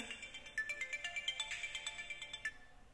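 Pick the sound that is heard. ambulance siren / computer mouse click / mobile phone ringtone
mobile phone ringtone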